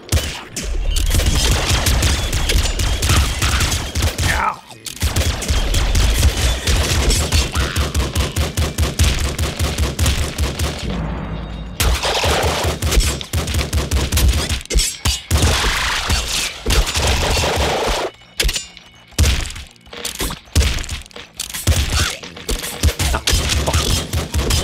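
Rapid laser rifle fire from a top-down shooter game such as Enter the Gungeon or Nuclear Throne, dense loud volleys running almost continuously with a few brief breaks and bursts of explosions, no talk.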